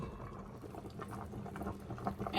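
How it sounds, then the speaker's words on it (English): Catfish pepper soup boils in a pot in a Nigerian kitchen, a steady close bubbling and popping that runs throughout at a low level, with no talk. "I'll let it boil for a few more minutes"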